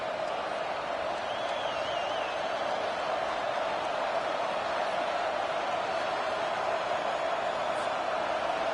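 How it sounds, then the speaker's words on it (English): A steady, distant-sounding roar from a packed stadium crowd at a college football game, a continuous even wash of noise holding for several seconds with a faint whistle-like tone briefly riding on top. "with this place rocking, the crowd forces a false start"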